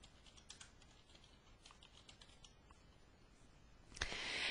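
A password typed on a computer keyboard, a quick run of light, close key clicks in an irregular rhythm, faint and near, ending in a sudden burst of broadband hiss.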